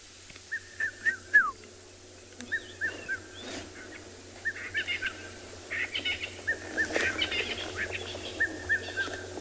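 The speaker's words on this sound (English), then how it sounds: "Enjoy the sounds of the cuckoo." A cuckoo calls repeatedly at sunset on a safari at Tswalu in South Africa, a series of short, evenly spaced phrases from a middle distance over quiet open bush with a low steady hum.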